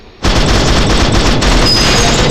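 A rapid, unbroken burst of gunfire erupts after a brief quiet moment in the Free Fire mobile shooter game, loud and dense, with overlapping shots and no speech.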